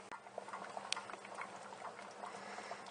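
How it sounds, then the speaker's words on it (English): Soft, steady bubbling of yellow split pea and ham soup boiling in a pot, with faint pops and patters throughout, fairly quiet. "See, it's boiling really nice."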